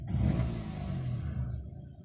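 A 2006 Peugeot 107's small engine revs with a low, rough rumble that swells at the start and then settles, heard up close.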